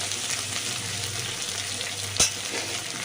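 Turmeric and salt stir and fry in hot oil, giving a steady, close sizzling hiss, with one sharp clink of the spoon against the pan near the end.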